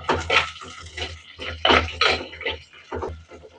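Mustard seeds, dried red chillies and chopped onions are stirred in a hot pan for sambar, giving irregular scraping and clattering strokes with a soft sizzle underneath.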